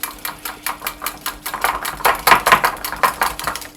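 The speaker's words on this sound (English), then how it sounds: "Just making sure our eggs are whisked properly." A whisk beating eggs in a bowl for pancake batter, with warmed milk nearby: a fast, steady, rhythmic clatter of close, loud strokes against the bowl.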